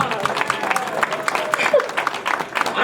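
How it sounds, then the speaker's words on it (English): An audience at a Black History Month presentation gives performers a round of applause, the clapping uneven and punctuated, with crowd voices and chatter mixed in throughout. "give them a warm round of applause"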